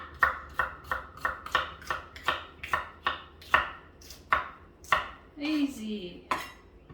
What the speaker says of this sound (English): Now I'm just about finished chopping up all of these chilies